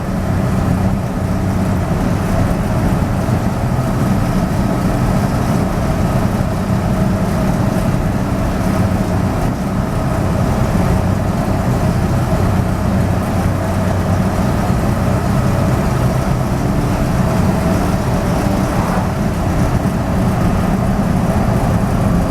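Napco truck engine running steadily while driving, a continuous low rumble with constant road and cab noise, loud and unbroken throughout.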